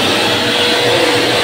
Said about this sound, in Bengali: নেক্সট হচ্ছে হ্যান্ড ড্রায়ার।